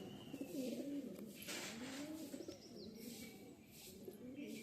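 Pigeons cooing close by in repeated soft, throaty rolling calls, with faint chirps from other birds behind them.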